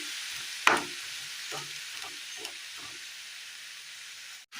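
Roasted semiya (vermicelli) is stirred with hot water in a pan for a Kerala breakfast, giving a steady soft hiss of steam broken by a few scraping strokes, close and quiet, with no voices.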